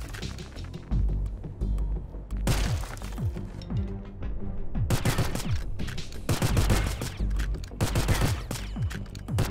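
Repeated bursts of loud gunfire in the twin-stick roguelite shooter Doomsday Hunters, dense rapid volleys split by short pauses, close and alone without talk.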